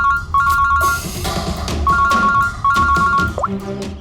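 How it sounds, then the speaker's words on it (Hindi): A telephone rings in repeated electronic bursts, loud and close, with background noise and clatter around it. "फोन उठाओ।"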